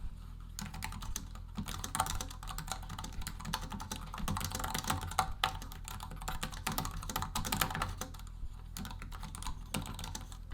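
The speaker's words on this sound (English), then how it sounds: "The keyboard is a lot nicer than you think and has a tactile feel and sound." Quiet, rapid keystrokes click in an uneven rhythm on a compact iPad keyboard case, continuing steadily with brief pauses.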